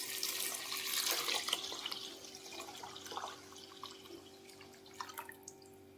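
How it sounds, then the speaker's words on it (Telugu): Water is poured into a pressure cooker holding vegetables and rice for bisi bele bath, a faint splashing stream that is strongest at first, then thins into a few soft drips, with no talking. "ఈ వాటర్ ఇలా యాడ్ చేసేద్దాం."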